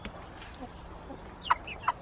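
Araucana and Orpington chickens cluck softly in a backyard coop, a couple of short, distinct clucks standing out over a low background murmur.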